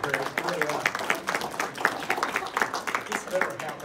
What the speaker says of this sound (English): I have applause before I speak